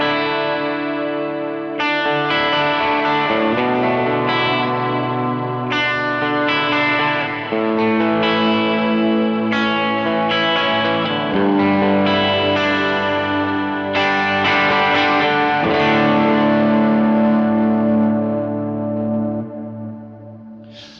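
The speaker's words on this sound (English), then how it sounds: "I use the modulated reverb." An electric guitar set up for worship music rings out sustained chords and notes through a modulated reverb, its shimmering, washy tails blending each change into the next over about twenty seconds before fading, with no voices.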